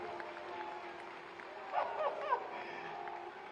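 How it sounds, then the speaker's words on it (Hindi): An audience at a Shashthipurti celebration gives steady, fairly faint applause that sounds distant and continuous, with a few brief voice-like bursts rising in the middle. "जरा आपकी जोरदार तालियां हो हमारे योगी आदित्यनाथ।"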